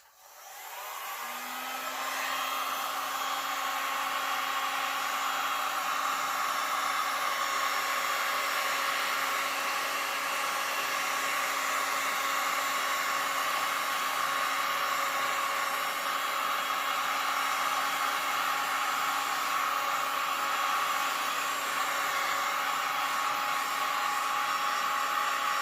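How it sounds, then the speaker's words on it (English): Heat gun blowing steadily over epoxy resin on a beach-wave art piece, a continuous loud whooshing hiss with a faint whine that starts within the first second and holds unbroken for nearly the whole stretch, no talking. "So I'm going to use my heat gun."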